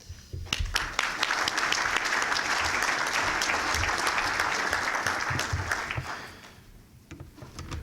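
A crowd at a business breakfast event applauds, steady dense clapping that swells, holds for several seconds and then tapers off.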